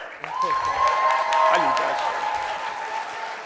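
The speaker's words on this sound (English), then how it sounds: "don't stop clapping" Audience applause at a live pitch competition event, a sustained burst of clapping with a voice speaking over it and a ringing tone cutting through.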